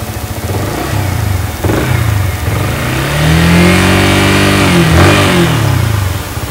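A Yamaha R15 V3 motorcycle engine runs close by, idling steadily around 1800 rpm and then revving up, the pitch rising and falling before settling back to a rumbling idle.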